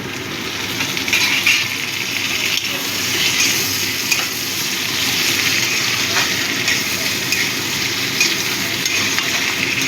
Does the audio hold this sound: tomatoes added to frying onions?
yes